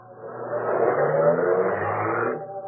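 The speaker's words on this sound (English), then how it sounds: "The man got in, drove off." A car pulling away, its medium engine swelling and revving for a couple of seconds as it drives off, then easing down, muffled and heard alone.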